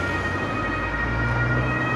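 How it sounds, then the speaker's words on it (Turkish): Police and ambulance sirens sound together in the distance on a Frankfurt street, a steady wailing tone blended into constant traffic and city rumble, with no talking. "Siren sesleri geliyor uzaktan doğru."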